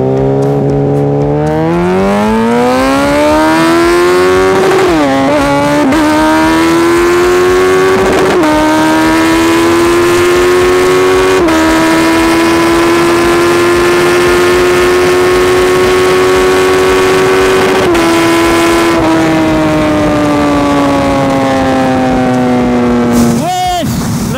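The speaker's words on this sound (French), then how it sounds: "tu mets un coup de gaz jusqu'au 4000" A Suzuki B-King motorcycle engine with a broken gearbox holds a high, steady rev for over twenty seconds, pitch climbing at the start and dipping near the end, loud and close.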